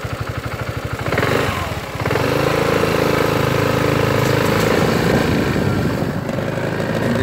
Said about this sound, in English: that's that sound of the engine